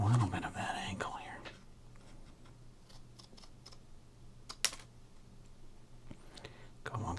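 Quiet snipping of a sports card being cut with scissors at close range, small crisp cuts and paper rustling over a hushed background, with soft whispered talk.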